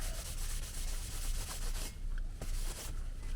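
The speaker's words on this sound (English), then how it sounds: "Give it a little wipe." A cloth soaked in PB Blaster wipes sticker residue off a PowerStop brake rotor for a Chevy Silverado, making quiet, close rubbing strokes in short back-and-forth passes.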